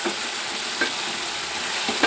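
Potato and brinjal curry sizzles steadily in a pan as it is stirred, with a few soft scraping strokes over the continuous frying hiss.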